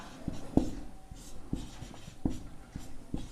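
A pen scratches across paper in short, quiet strokes and taps, close and intermittent, with no one speaking.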